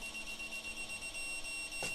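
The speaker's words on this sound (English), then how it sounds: "the beep gets longer" A thin, high-pitched electronic beep from an MST RMX 2.0 RC drift car transmitter holds steadily, quiet and alone, ending with a short soft click.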